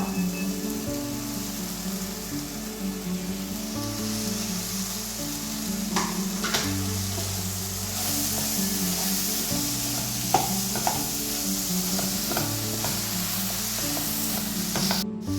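Grated coconut stirred in a frying pan, a steady low sizzle with rhythmic scraping strokes of a spoon and occasional light taps, no voices.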